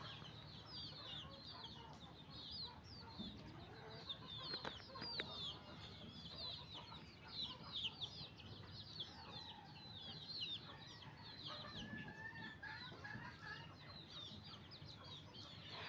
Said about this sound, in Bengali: এই দুইটা মোরগ